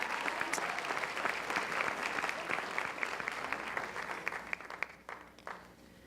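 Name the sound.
audience applause at school ceremony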